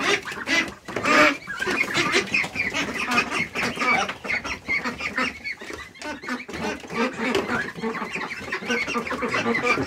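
Ducks on a poultry farm quack and honk in a dense, overlapping flock chorus alongside other fowl, loud and close throughout.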